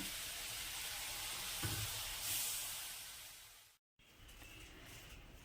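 A spice paste sautés in a pan with a faint, even sizzling hiss that swells slightly, drops out briefly and then returns quieter.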